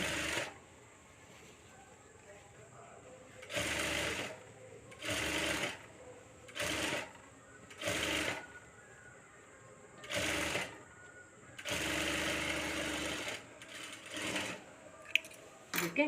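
Sewing machine stitching a blouse, running in short bursts of one to two seconds separated by pauses, with one longer run, close and clear, with occasional quiet talking in between.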